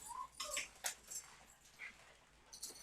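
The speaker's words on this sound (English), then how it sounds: "Oh, look at the dogs. They're going crazy." Alaskan Klee Kai puppies whimper and yip excitedly in short, faint, scattered bursts, heard on their own in a quiet room.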